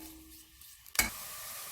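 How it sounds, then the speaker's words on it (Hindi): Chopped onions hit hot oil in a pan for a fish curry with a sudden loud crackle near the one-second mark, after a quiet lead-in, and the sizzle then settles into a steady hiss. "गोल्डन ब्राउन होने तक हम इसे सोटे करेंगे।"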